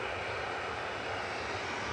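Airplane taxiing out at Manchester Airport, a steady broad engine roar and hiss at moderate distance, continuous and unchanging throughout.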